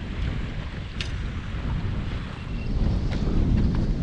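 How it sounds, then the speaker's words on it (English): Strong wind from a November cold front roars and buffets steadily at Lake Lanier, a low rumbling gust that swells louder toward the end, with no voices. "The wind is really coming up out of this cold front."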